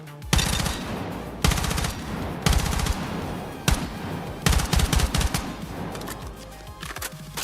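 Weapons test-fired in Battlefield 6, heard as repeated loud automatic bursts, roughly five sharp volleys of rapid shots separated by brief pauses, close and dry with no talking.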